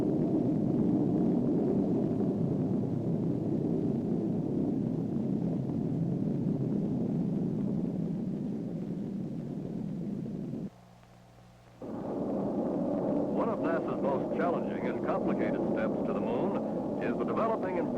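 Surveyor spacecraft rocket launch: a loud, continuous, deep roar that persists throughout, cut by a brief drop in level partway through before the heavy rumble returns.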